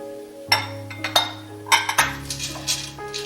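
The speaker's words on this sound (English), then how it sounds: "Alright, I'm going to dump some peas in here." Frozen peas tumbling into a casserole dish with a ham fettuccine casserole, giving a series of bright clinks and rattles, close and fairly loud over a steady tonal hum, no speech.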